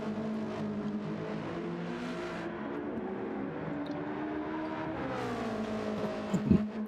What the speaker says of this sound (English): These cars should be flat out through here until this break.